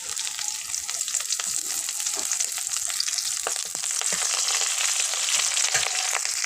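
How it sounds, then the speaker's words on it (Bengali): Chopped garlic and green chilli crackle in hot oil in a pan, a dense, close sizzle with sharp pops and spits throughout, growing slightly louder toward the end, no talking. "তেলটা গরম হয়েছে, এর মধ্যে দিয়ে দেব রসুন কুচি, দিয়ে দেব কাঁচা লঙ্কা কুচি"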